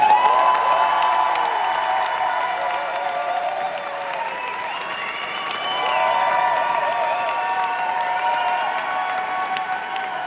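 A large crowd at a live drag show cheers, whoops and applauds in a continuous roar that swells in the middle, sustained and dense, heard from within the audience.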